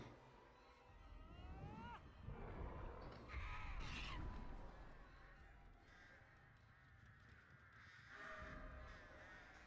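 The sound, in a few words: crows cawing in the video game Dead by Daylight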